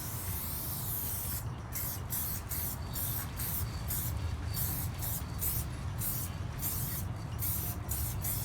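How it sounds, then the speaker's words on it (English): Spray paint from an aerosol can is sprayed onto an owl stencil in a series of close, loud hissing bursts separated by short breaks, steady rhythmic spurts with no talking. "If we're too far away, the spray paint's gonna get everywhere."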